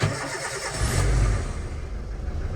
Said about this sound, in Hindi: पहले गाड़ी को स्टार्ट कर लेते हैं